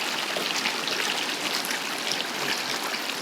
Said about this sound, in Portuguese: E aqui o caminho que a água quente faz até o rio, ó.